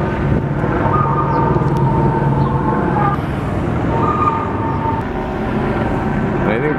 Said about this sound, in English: That's actually the helicopter playing the music right now, if you could hear it.